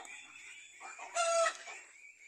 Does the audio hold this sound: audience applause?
no